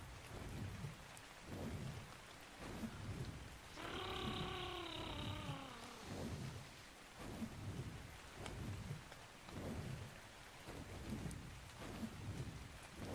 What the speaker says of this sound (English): That's just a rainstorm clearing up.